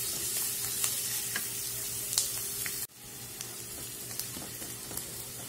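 Vegetables sauté in a hot pan under a steady, close sizzle, with soft spatula scrapes and taps from stirring and a brief dip in the sizzle partway through.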